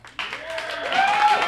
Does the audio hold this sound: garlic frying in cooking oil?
no